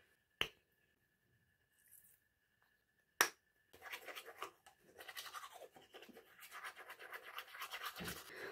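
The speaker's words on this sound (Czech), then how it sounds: "teďka se jdu vyčistit zuby a jdu si umýt obličej" Toothbrush with toothpaste scrubbing teeth during an evening routine, a rapid rough bristly scratching that starts after two sharp clicks and continues steadily, close and fairly loud.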